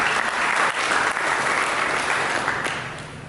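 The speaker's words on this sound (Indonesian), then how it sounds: "Berikan tepuk tangan bagi Tuhan." A church congregation applauds together during a sermon, a steady, dense wash of clapping from many hands that carries on for a few seconds and fades slightly at the end.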